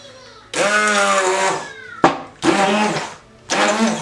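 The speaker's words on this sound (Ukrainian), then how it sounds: "Так, тепер все це діло прибиваємо блендером." A blender purées chocolate cake batter in three loud bursts separated by short pauses, its motor whirring harshly close by.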